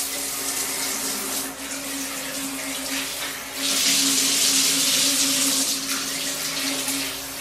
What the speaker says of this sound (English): Now we have a shower. We can change the flow of the shower.